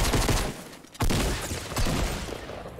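A shotgun firing in Fortnite, heard as a sharp loud blast at about one second over continuous busy game noise, with a second softer report shortly after.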